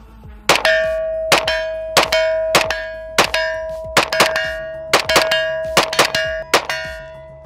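Bullets from a Smith & Wesson M&P 9 2.0 pistol fitted with a Holosun 507 comp sight ring off a steel target in about ten sharp, loud metallic clangs with short ringing tails, spaced unevenly at roughly half-second intervals.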